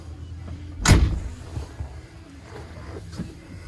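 Door trim panel of a Chevrolet D20 double-cab pickup being pulled outward, a single sharp thump or snap near the start followed by faint rustling and handling noise.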